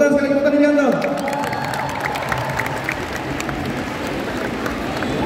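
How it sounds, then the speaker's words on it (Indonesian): A big concert crowd at GBK Jakarta, at a Sweet Seventeen show, breaks into dense, sustained applause and cheering for Nianto. The applause rises loud and steady as a voice fades out at the start, then fills the rest of the moment. "Tepuk tangan sekali lagi untuk Nianto."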